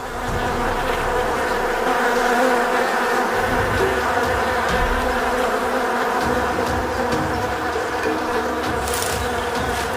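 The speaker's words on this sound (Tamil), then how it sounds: "எங்களை சுத்தி தேனீக்களை பார்க்க முடியுது." Dense, continuous buzzing of many bees swarming close by in a forest in Bengal, India, loud and steady throughout with no voices.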